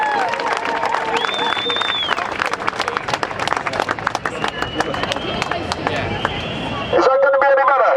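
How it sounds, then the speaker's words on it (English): Crowd at an outdoor protest rally against TTIP in Parliament Square claps and cheers in a dense, steady burst of applause, with voices mixed in throughout. "So give yourselves a round of applause and everybody else across Europe at the same time."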